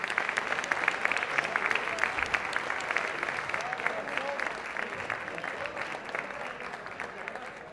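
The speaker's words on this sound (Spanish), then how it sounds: "Solicito un aplauso para nuestro invitado." Steady applause from the members of Venezuela's National Assembly during an ordinary session, welcoming the visiting governor of Trujillo state. The clapping is dense and sustained throughout and fades slightly toward the end.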